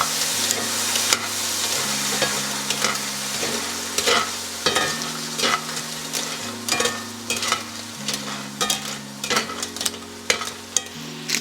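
White wine poured into a pan of clams for a seafood spaghetti bursts into a steady, loud sizzle with continuous frying hiss, and stirring scrapes and clicks recur throughout alongside a low, repeating hum.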